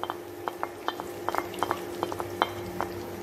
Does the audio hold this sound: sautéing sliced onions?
yes